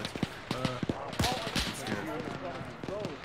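Gunfire in a military shooter game, with rapid bursts and sharp single shots cracking at varying distances while several players talk over the shooting.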